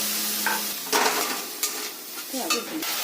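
Ginger and turmeric cook with a splash of water in a pan, a light sizzle broken by sharp clinks and scrapes of a spatula stirring against the metal, close by.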